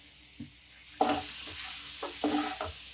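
Cabbage sizzles and scrapes in a pan as it is stirred, with a few clattering strokes of a spoon against metal.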